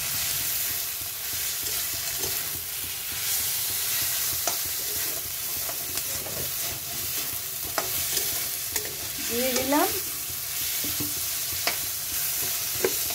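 Dried red chilli fries in oil while a spatula stirs and scrapes the pan, a dense continuous sizzle broken by irregular clicks and scrapes; a brief voice speaks over it near the end.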